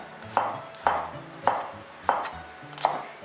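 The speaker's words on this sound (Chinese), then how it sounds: "叶子切成葱花。" A knife chops through scallion leaves on a cutting board, five crisp, evenly spaced strikes about two-thirds of a second apart, close and clear with no voices.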